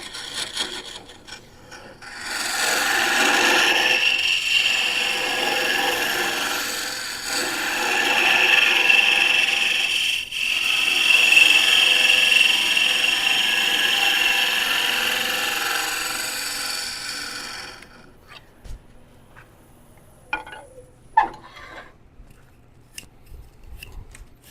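Poplar turned on a woodturning lathe gives a steady, close scraping and hissing of a tool cutting shavings, running about fifteen seconds with slight surges, then stopping and leaving a few light knocks and clicks.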